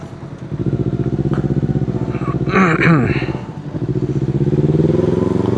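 A Kawasaki Z250 motorcycle with an aftermarket racing exhaust rumbles steadily up close with a throaty exhaust note, briefly revving, while a voice talks over it.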